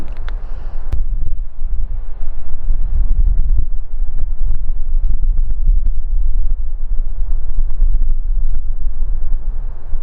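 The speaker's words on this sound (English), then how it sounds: "Bit breezy up here today" Wind gusting continuously across a pitched roof on an off-grid yurt-style round house under construction, a loud low rumbling buffet against the microphone with no clear talk.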